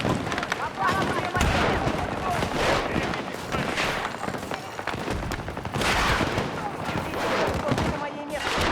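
Dense, continuous gunfire and explosions from a shooter video game, loud and sustained with bursts of booms throughout, under occasional talk.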